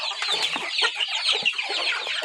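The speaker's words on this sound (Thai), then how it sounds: "มาให้อาหารไก่ครับ" A flock of chickens, including Burmese-type fowl, cluck and chatter busily at close range during evening feeding, overlapping short calls in a constant restless stream.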